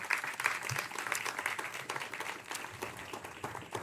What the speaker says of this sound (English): So I think they deserve applause and appreciation from us.